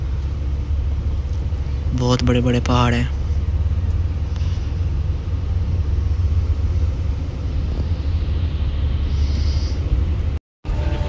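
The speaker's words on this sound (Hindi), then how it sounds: "इसलिए अभी हमारी गाड़ी स्लो चल रही है" A car drives slowly along a mountain road with a steady low rumble throughout, while someone speaks briefly over it.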